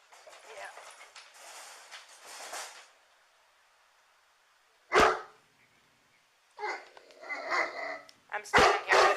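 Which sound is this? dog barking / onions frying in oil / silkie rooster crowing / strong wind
dog barking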